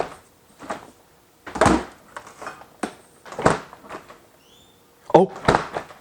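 A kitchen refrigerator door is opened and shut several times in a row, each with a short thump and rattle, separated by brief pauses, with a person talking nearby.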